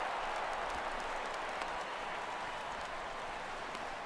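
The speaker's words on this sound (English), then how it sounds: "This crowd oohs and ahs every time this guy hits a fly ball." Game crowd noise from a simulated MLB baseball stadium, a steady, even roar of fans swelling slightly as if reacting to a fly ball, with no clear individual voices standing out.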